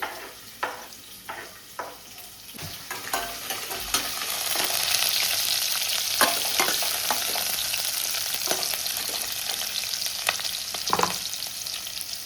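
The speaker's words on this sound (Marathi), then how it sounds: "त्यानंतर हा कांदा भाजून घेऊया आपण" Onion frying in oil with cumin and mustard seeds, starting with scattered pops and spoon knocks, then settling into a fuller steady sizzle, close up with no voices.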